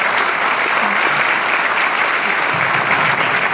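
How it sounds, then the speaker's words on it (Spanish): Dense, loud audience applause at a tribute ceremony for Luis Bedoya Reyes, a steady uninterrupted wash of clapping close at hand. "Saludamos con fuerte y caluroso aplauso"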